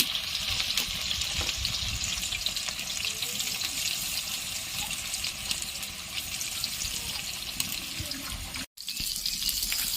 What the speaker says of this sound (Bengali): এই দেখো বন্ধুরা সয়াবিনগুলো আমার লাল লাল করে ভাজা হয়ে গেছে